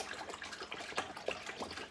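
Beer kit mixture being stirred vigorously in liquid while more is poured in during home brewing, giving a steady wet swishing and trickling wash with small sloshing splashes throughout, close and moderately quiet, no voices.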